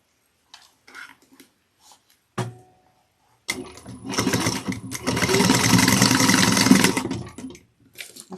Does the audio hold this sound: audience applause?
no